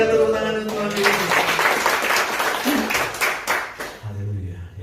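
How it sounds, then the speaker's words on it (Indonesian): Congregation applauding for Jesus during a church service, a dense wash of clapping through most of the clip with voices speaking over it, fading as the talk resumes near the end. "Berikan tepuk tangan untuk Tuhan Yesus."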